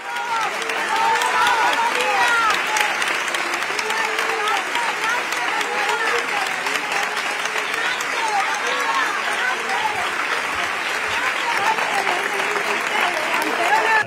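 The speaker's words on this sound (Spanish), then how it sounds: "Tocando las palmas han recibido en Triana al cortejo fúnebre con los restos mortales del artista" A large crowd in the streets of Triana, Seville claps in unison as a funeral procession arrives, rhythmic clapping with voices and cheering woven through, sustained and close.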